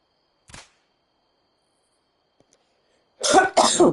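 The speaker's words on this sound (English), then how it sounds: "I had to go off mic. I was coughing." A short cough, then silence, followed by two harsh, loud coughs close up.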